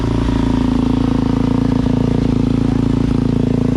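A two-stroke pit bike engine runs in cold weather, idling loud and close with a fast, steady, slightly uneven burble and mechanical clatter.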